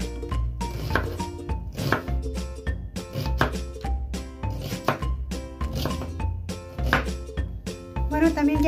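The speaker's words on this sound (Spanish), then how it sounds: "también voy a partir una cebolla. Esta la cebolla la voy a hacer en julianitas" A knife chops an onion into thin julienne strips on a board, with rhythmic, fairly close thuds repeating about twice a second under music.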